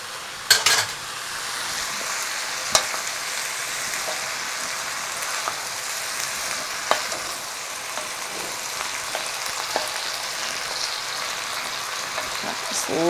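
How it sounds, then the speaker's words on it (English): Drained beans are stirred in a frying pan, giving a steady sizzling hiss with scattered scraping and clinks of a utensil against the metal pan. "So I got my drained beans, just going to add them right in."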